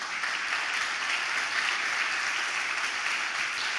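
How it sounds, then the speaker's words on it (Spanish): A church congregation applauds in a steady, dense round of clapping that holds at an even level throughout, without speech over it. "denle un aplauso, Señor, por eso"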